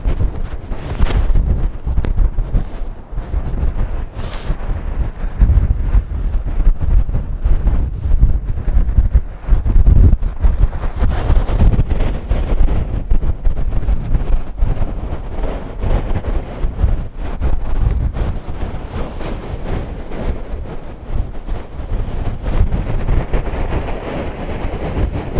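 Strong Storm Eunice wind batters the foreshore at Ferryside, a loud, continuous roar of buffeting gusts hitting the microphone, with rough water surging underneath throughout.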